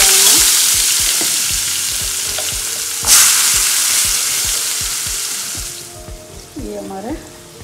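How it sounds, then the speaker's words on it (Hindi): Vegetables frying with cloves, cardamom and turmeric for Tamil-style kurma, a loud steady sizzle with stirring scrapes and a clatter partway through, no speech. "ये हमारे सब्जियां सिकने आ गई है।"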